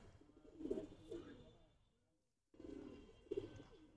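Pigeons in Khilgaon coo softly in two short bursts separated by a quiet pause, faint and close-ish, with no talking.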